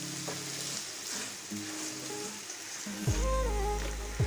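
Taro stolons (kochur lati) tipped into a hot pan of already-fried ingredients and stirred, giving a steady close sizzle with scraping stir strokes and a louder burst of frying partway through; no voices.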